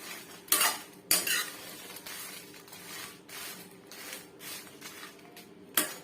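Dried red chillies dry-roasting in a pan without oil, stirred by a spatula that scrapes and clinks against the metal in irregular bursts, with a few sharper knocks standing out close by.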